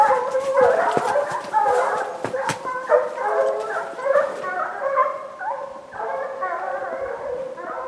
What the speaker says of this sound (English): We listened to them bark, bellow, bawl, and howl as they inhaled the scent of the bear.